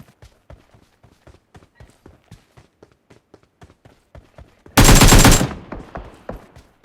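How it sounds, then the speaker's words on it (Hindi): Gunfire in PUBG Mobile: a burst of rapid automatic shots erupts loudly over a steady run of footstep-like thuds, then cuts off and the steps continue. "पर आगे से मेरे को फायरिंग भी आती है और फुटस्टेप भी आ गया है"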